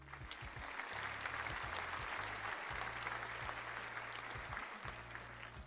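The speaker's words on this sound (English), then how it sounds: "Can I have a round of applause?" Applause sound effect played during a live stream, a dense, even burst of clapping and crowd noise, faint in level and continuous throughout, with a low hum underneath.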